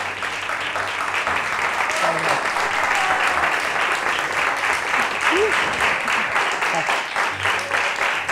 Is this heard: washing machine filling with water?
no